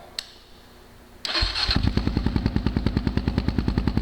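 A Kawasaki KLR650 motorcycle engine with a Two Brothers M7 exhaust cranks and catches, then settles into a loud, rapid, throbbing idle with steady popping pulses, close by.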